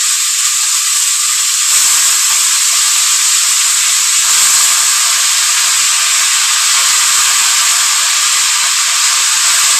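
Vegetables dropped into a hot karahi wok, giving a loud, steady sizzling hiss with a brief swell partway through, no talking.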